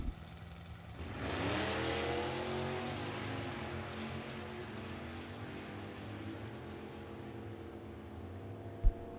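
A vintage drag race between a 1956 Chevrolet Bel Air with a 598 engine and a Mercury Comet, heard as distant engines surging into a loud roaring launch that holds steady and slowly fades, ending with a sharp click.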